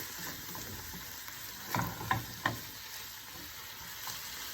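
Chive dumpling filling is stir-fried in a pan with a soft steady sizzle and a few brief scrapes of the spatula near the middle, fairly quiet and without talk.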